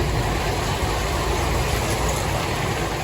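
A small amusement park train ride at Adventure Land Park in Narayanganj rumbles along in a steady, continuous low drone of engine and running noise, with no clear voices over it.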